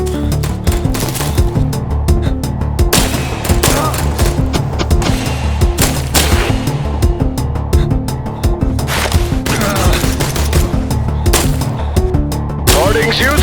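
Rapid bursts of assault rifle gunfire crackle in a video game, loud and dense, with repeated sharp shots over a continuous stretch and a voice talking at times.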